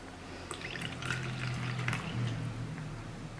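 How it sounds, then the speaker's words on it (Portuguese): Water poured from a small amount into a bowl of lemon juice salad dressing, a steady close trickle and splash with light drips, no voices. "se você quiser aumentar um pouquinho aqui do caldo, você pode colocar aqui um pouquinho de água"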